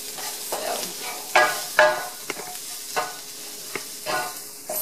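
Spices for a Moroccan lamb stew sizzle in a pot before any liquid is added, a soft steady frying hiss broken by irregular scraping stirs of a utensil, close and without talk.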